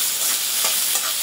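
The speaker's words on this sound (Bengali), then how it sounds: "পেঁয়াজটা লাল লাল করে ভেজে নেব।" Chopped onion, about a cup, being stirred and fried in cooking oil until reddish-brown, a steady close sizzle with soft stirring scrapes throughout, no voices.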